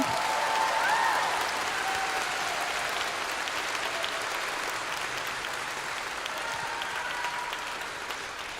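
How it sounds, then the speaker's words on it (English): Steady applause from an audience at an elementary school spring concert, sustained for several seconds and slowly fading slightly, with no talking over it. "Could we give them one more round of applause?"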